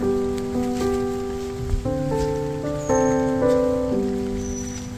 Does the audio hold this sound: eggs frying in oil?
no